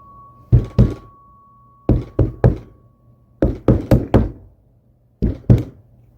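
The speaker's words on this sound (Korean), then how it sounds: "벽장을 쾅쾅 두드리는 것 같은 소리가 들려오기 시작했다" Dull knocks on the inside of a closet wall come in irregular bursts of two, three, five, then two, each thud close and solid against a quiet background.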